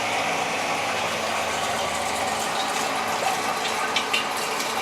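A keg washer at a brewery runs with liquid flowing through it, a steady broadband rushing and churning that stays constant throughout, with a few faint mechanical ticks near the end.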